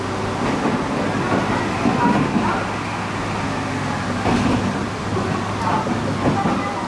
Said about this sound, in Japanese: 雨が降っているので線路がツルツルになって滑ってしまうので、そうするとモーターがものすごい勢いで空回りして、 とんでもない音を立てます